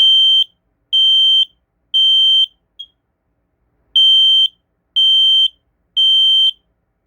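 A smoke detector alarm sounds a loud, piercing high-pitched beep in a steady pulsing pattern, three long tones, a brief chirp, then three more, with silence between.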